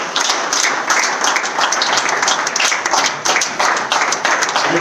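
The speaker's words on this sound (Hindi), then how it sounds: "माननीय प्रधानमंत्री जी का आप जोरदार तालियों के साथ अभिनंदन और स्वागत करें।" An audience at a BJP political address in India applauding loudly, dense and sustained clapping from a large crowd, close and continuous with no speech over it.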